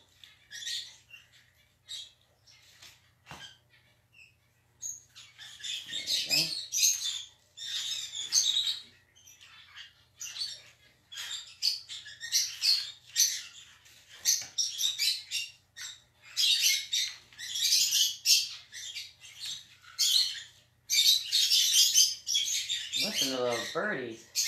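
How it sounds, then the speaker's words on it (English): Lovebirds near a nest chirp and squawk in rapid, overlapping bursts that continue almost without pause, close and fairly loud, with a brief low thump early on. "Birdies."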